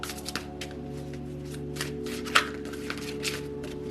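Tarot cards from a Dark Wood Tarot deck cut into three piles and stacked back together, soft papery slides and light taps, with one crisp snap of card against card midway, close and quiet.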